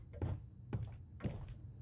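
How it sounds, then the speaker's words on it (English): A door opens in the horror video game The Butterfly, three faint, evenly spaced creaking thuds. "I hate how that door opens."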